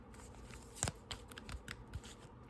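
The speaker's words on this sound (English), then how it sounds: "I'm just going to shuffle these cards again for you." Tarot cards being shuffled by hand, soft papery riffles and taps with a few sharper snaps, quiet and close, with no talking.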